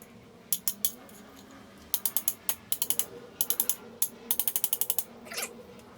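A socket ratchet clicks in quick bursts while working on a rear axle snap ring, rapid clusters of sharp pawl clicks separated by short pauses, close and clear.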